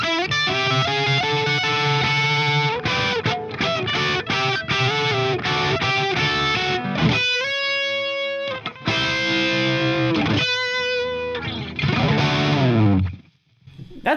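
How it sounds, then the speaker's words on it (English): Electric guitar through a Friedman IR-D amp with the bright switch engaged, playing a loud, continuous run of thick, distorted chords and ringing single notes with a chorus-like shimmer, heard alone with no talking. "Now let's add that thicker sound from the bright switch."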